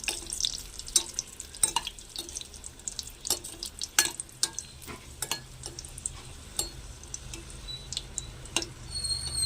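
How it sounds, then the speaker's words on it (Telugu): Red chillies fry in a generous amount of oil for a Telugu gongura and chana dal curry, giving a soft steady sizzle broken by sharp clicks and scrapes of stirring, with no talking. "సో ఈ మిరపకాయలు ఏగుతున్నప్పుడే ఇప్పుడు మనం కొంచెం లైట్గా కలర్ చేంజ్ అయింది కదండి"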